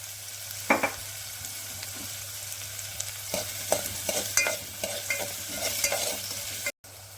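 Onion fries with salt in a pan, a steady close sizzle broken by repeated spatula scrapes and clinks, ending in a brief cutout, with no talk.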